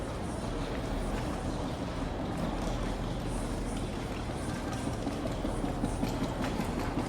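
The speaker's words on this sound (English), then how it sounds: "there is a couple people there hoping to catch that next train" A train rumbles at Toronto Union Station, a steady dense roar of rolling carriages that fills the space without break.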